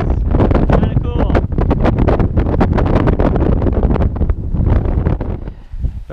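Strong gusting wind buffets the microphone on a mountain ridge along the Presidential Traverse in New Hampshire's White Mountains, loud and roaring in continuous rushing blasts that ease briefly near the end.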